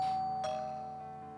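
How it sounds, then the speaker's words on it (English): A single doorbell chime rings, a sustained ding-dong tone that fades out slowly in a quiet room, with no talking. "That was such a delayed reaction to the doorbell"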